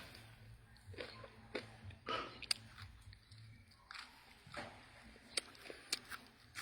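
Crunchy chewing up close, irregular crisp bites and munching clicks over a quiet low hum, with no speech.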